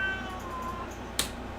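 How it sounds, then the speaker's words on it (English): A house cat meows in the background of a quiet room, giving a brief, soft, faint call or two over low steady hum and one sharp click. "And that's my cat in the background being adorable."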